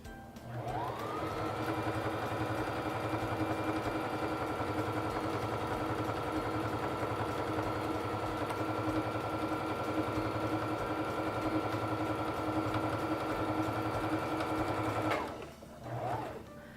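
A Singer Fashion Mate 3342 sewing machine stitches a buttonhole, running with a steady, continuous motor hum and rapid needle rhythm for about fifteen seconds before stopping abruptly, followed by a brief faint rustle.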